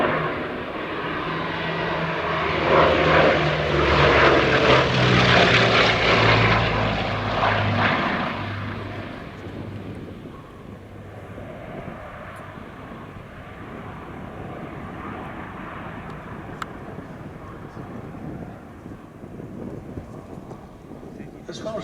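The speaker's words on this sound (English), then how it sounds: "As far as we know, this is the only authentic Blenheim that's flying at the moment" A vintage Bristol Blenheim fighter flies at the Shuttleworth airshow. Its propeller engines drone loudly, swell to a peak as it passes, then fade into a steady distant hum with wind noise and people talking throughout.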